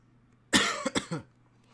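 A single sharp cough followed by two quicker, smaller coughs, close and clear against a quiet background.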